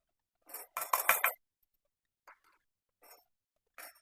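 A spoon scrapes and clinks while jaggery is mixed into a semolina and coconut modak mixture: a quick cluster of scratchy strokes, then a few sparse, faint scrapes with silence between.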